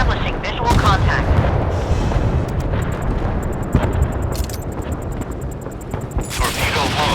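Torpedo strikes and naval gunfire in the warship game Force of Warships, a dense roar of heavy booms and rumbling blasts, loud and continuous, with crackling bursts and faint electronic game tones near the end.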